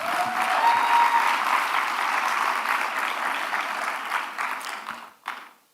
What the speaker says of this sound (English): Another round of applause to Furaha.